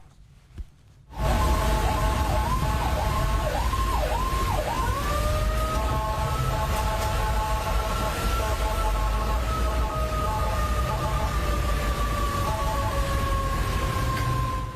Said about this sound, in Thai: เปิดไซเรนแล้วก็พยายามจะจี้ท้ายรถกู้ชีพ